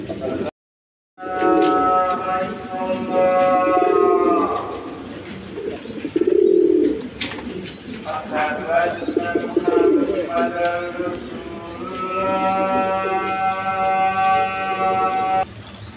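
A pair of pigeons coo in repeated throaty, rolling calls close by, with someone talking loudly over and between them throughout.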